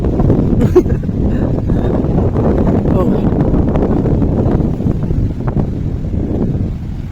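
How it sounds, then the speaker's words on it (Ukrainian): Strong sea wind buffets the microphone in a constant heavy rumble during a storm, with a voice speaking faintly underneath. "вітер який гарний вітер лагідний, хоч і сильний"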